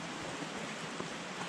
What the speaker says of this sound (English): Light sprinkle, nothing too big.